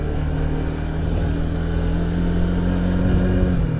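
A Bajaj Dominar 400 motorcycle engine idles after standing unused at home for a long time, a loud, steady, close throbbing drone that stays even throughout, with no voices.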